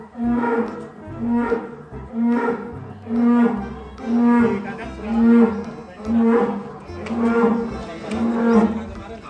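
A cow named Panda moos repeatedly in long, deep, evenly spaced calls, loud and close, about seven lows in a steady rhythm.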